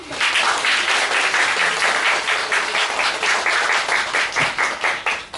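An audience at a literary library talk applauds the guest speaker with loud, close, continuous clapping, individual claps faintly distinguishable in the steady wash.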